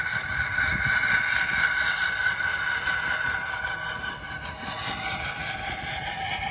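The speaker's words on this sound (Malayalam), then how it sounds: "ഇതാണ് മുകളിൽ താഴോട്ട് ട്രെയിൻ ഇറങ്ങിപ്പോകുന്നത്" A single-coach train on the Snowdon mountain railway descends the mountain, a steady mechanical drone with a prominent tonal whine and rumbling underneath, continuous and fairly close throughout.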